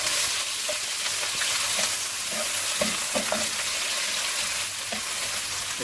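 Onion frying in a pan for chicken karahi, a continuous close hiss of sizzling oil with occasional stirring scrapes and soft pops, no voices.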